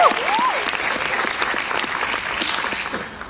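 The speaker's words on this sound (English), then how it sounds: "Give yourselves a round of applause." Audience applause at a Toastmasters speech contest, a steady, dense wash of many hands clapping that holds for a few seconds before tapering off, with a brief whoop near the start.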